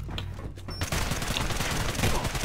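MP7 gunfire in the AVA video game crackles in rapid, dense bursts that grow louder after a brief quieter opening, sounding close amid the game's action.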